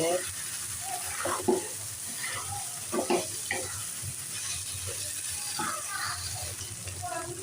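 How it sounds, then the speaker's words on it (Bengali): Chickpeas sizzle in a pan while being stirred, a constant frying hiss overlaid by repeated scraping strokes, moderately close, with a voice talking intermittently over it. "বুট ভাজা হয়ে গেছে"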